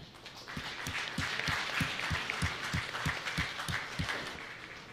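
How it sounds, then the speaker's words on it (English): Keynote audience at a tech summit applauds in a steady wash of many hands, moderately loud and even, with a few sharper claps standing out rhythmically near the front. "Round of applause, please."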